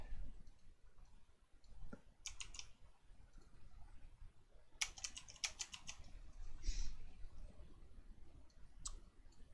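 Scattered keyboard keystrokes clatter in short bursts with pauses between, a few sharper clicks standing out, all fairly close and moderately quiet.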